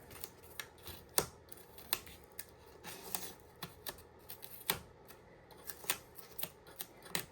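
A sharp blade slices through styrofoam during an FPV glider build, giving irregular crisp snaps and scratchy cuts, close and fairly quiet, with no voices.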